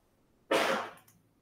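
One short, sharp sneeze bursts out close by, then fades quickly into quiet.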